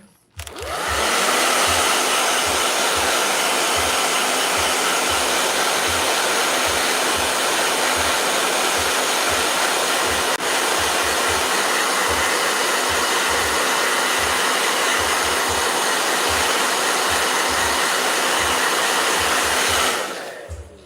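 A blow dryer roars loudly and continuously at close range with a steady high rushing airflow, switching on at the start and cutting off near the end.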